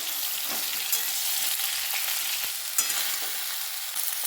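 Drumstick and eggplant pieces frying in oil in a pan for a Bengali shukto, a steady close sizzle with occasional stirring clicks and pops, no voices.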